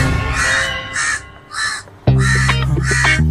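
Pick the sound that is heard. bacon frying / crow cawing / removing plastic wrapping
crow cawing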